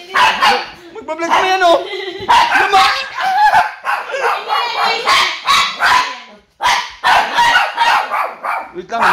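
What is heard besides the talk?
dog barking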